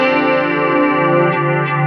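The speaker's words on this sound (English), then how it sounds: "Like you hear overtones that just start ringing and blending. It almost sounds like a harmonizer, but it's just, you know, a chord, flanger in the..." Electric guitar chord sustained through a chorus/flanger pedal, a dense shimmering wash of ringing, blending overtones that holds steady at loud level without a break.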